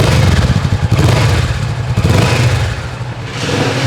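Benelli 502C motorcycle engine revving nearby, loud and rough with a throbbing low rumble and clattering, throttle blips rising and easing over a few seconds.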